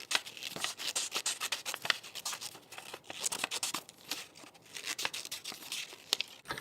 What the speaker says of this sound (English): So I'm going to cut first out the oval.